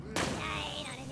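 A grenade explodes in the video game Borderlands 2: a sudden loud, close blast that then trails off into a sustained noisy rumble for about a second.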